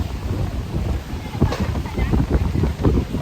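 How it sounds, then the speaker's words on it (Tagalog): Strong wind buffets the microphone near the sea at Sampaloc Lake, with continuous rough low rumbling gusts that swell and surge throughout. "Lakas ng hangin dito."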